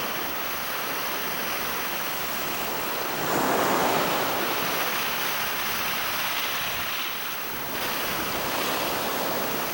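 Strong ocean surf pounds the rocky Galápagos shore where marine iguanas feed, a continuous loud roar of breaking waves with wind buffeting the microphone and a swell in intensity partway through.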